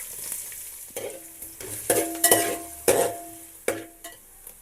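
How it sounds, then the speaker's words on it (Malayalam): Chopped onions fry in hot oil with a soft sizzle, while a utensil knocks and scrapes against the pan several times, close up and with no talking. "ഇതിലേക്ക് മുറിച്ച സവാള ചേർക്കാം."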